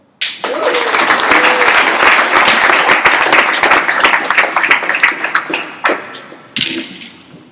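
An audience at a Sunday noon AA meeting in Los Angeles bursts into loud, sustained applause welcoming the speaker, with crisp clapping that thins toward the end, then a brief renewed flurry.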